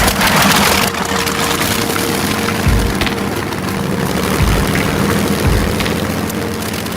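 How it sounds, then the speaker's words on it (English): Rolls-Royce Merlin piston aircraft engine running, a loud, steady, dense roar that fills the whole span, with a few deep thumps partway through. "This is the legendary Rolls-Royce Merlin engine that powered the Spitfires and Hurricanes in the Battle of Britain."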